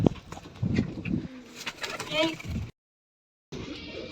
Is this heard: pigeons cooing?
yes